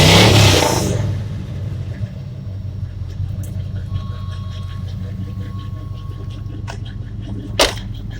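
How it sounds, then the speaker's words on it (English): A cammed 350 V8 exhaust on a 1985 Chevy C10 pickup opens with a loud burst, then settles into a steady, deep idling rumble with occasional small pops. "let's take a listen to the exhaust"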